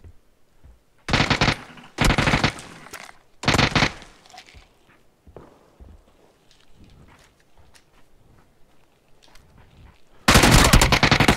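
Gunfire in the video game PUBG Battlegrounds: three loud automatic bursts early on, then quieter scattered shots and clatter, ending in a final loud sustained burst.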